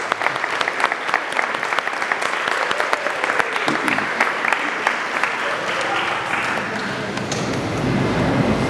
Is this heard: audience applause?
yes